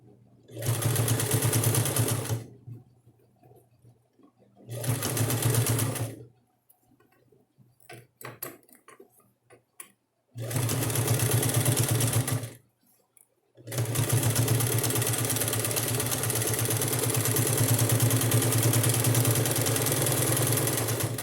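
A sewing machine stitches elastic around the leg opening of a double-sided diaper cover, running in several bursts of steady fast motor whir and needle clatter, with quiet handling sounds between runs and a long final stretch.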